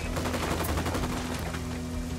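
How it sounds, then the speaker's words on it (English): Rapid automatic gunfire rattles continuously in Ghost Recon Wildlands, a dense, loud, steady barrage of overlapping shots with no pauses. "Opening fire."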